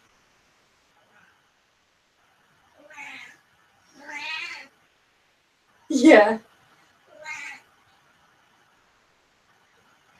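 A house cat meows several times indoors, short separate calls spread across a quiet room, one louder and sharper than the rest, with a person briefly speaking.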